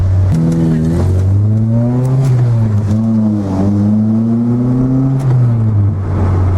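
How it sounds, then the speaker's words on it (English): A car engine idling and revving up and down in rising and falling sweeps, loud and close, with a few sharp backfire pops mixed in. "Little backfire."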